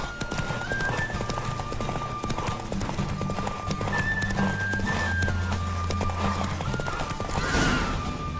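Roach, a horse, gallops hard through a race in The Witcher 3, with rapid, steady hoofbeats running throughout alongside tonal game music, and a brief rushing swell near the end.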